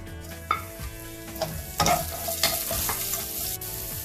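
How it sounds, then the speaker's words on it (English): Ginger and green chili paste frying and being stirred in a pan over a high flame, with a steady close sizzle broken by a few sharp scraping and stirring clatters. "So now I'm going to add some ginger and green chili paste."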